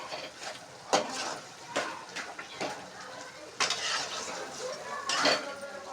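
Egg and cucumber curry is stirred and mixed in a pan, with repeated scrapes and clinks of a spoon against metal over a light sizzle, irregular and close, with some talk in the room.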